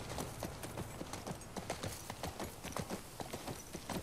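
Horse hooves clip-clop steadily in The Last of Us Part II, a quick even rhythm of close, fairly loud footfalls over faint background ambience.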